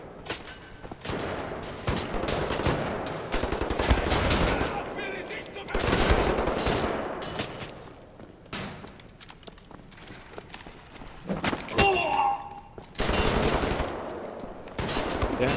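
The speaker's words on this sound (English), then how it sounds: "Damn shotgun." A shotgun fires in the video game Wolfenstein: The New Order as several sharp, heavy blasts spread irregularly among other gunfire and combat noise, with a voice speaking briefly in between.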